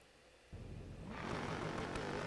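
A laptop cooler with six 300 CFM fans spins up abruptly from a low hum into a loud, rushing roar that grows stronger and then holds steady and dense, with no talking.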